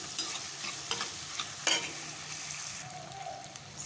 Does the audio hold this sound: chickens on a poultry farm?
no